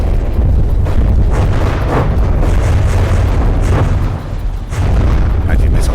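Missile volleys strike armor in the From the Depths video game, making a dense rolling barrage of heavy booms and bursts that keeps up loudly throughout, with a brief dip near the end.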